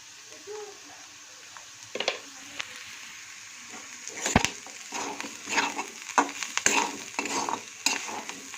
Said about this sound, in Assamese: অকণমান কম তেলতে ভাজি আছোঁ